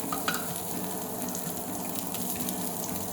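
Bread omelette frying in oil in a pan, a steady close sizzle with small pops and crackles running throughout. Nobody speaks.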